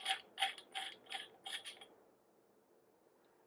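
Threaded parts of a Saberforge Fallen Order MK2 lightsaber hilt being unscrewed, giving a run of six or seven short, crisp metallic creaks and ratchety clicks in quick rhythm, close and fairly quiet, then near silence.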